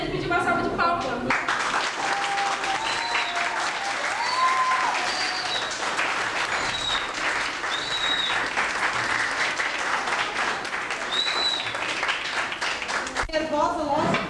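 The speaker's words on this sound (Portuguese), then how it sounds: "Eu gostaria de pedir uma salva de palmas." An audience at a school event at EEB Saul Ulysséa applauds in a dense, sustained burst of clapping that fills the room for over ten seconds, with a few high whistles or squeals rising above it before it cuts off.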